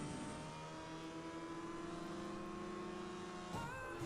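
A Bugatti Chiron Red CSR edition in CSR Racing 2 roars steadily at high revs, its engine tone climbing smoothly, then shifts abruptly near the end as the pitch jumps and rises again, loud and continuous with no talk.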